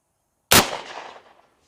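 A single .223 rifle shot fired at a Lego target, loud and close, with a sharp crack followed by a decaying echo trailing off for most of a second, after silence.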